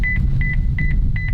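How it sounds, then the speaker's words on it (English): A Toyota Prius Prime sounds its chime as a series of four quick double beeps repeating at an even pace, clear and close over a low cabin rumble. "this car has a lot of different sounds and chimes"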